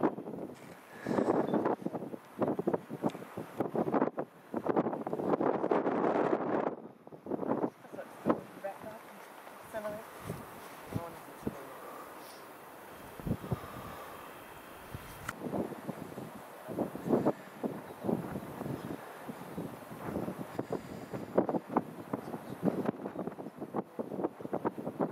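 Strong, cold wind gusts across a mountain saddle in gusty bursts of buffeting roar on the microphone, near and loud in places with quieter lulls between, and someone speaks briefly.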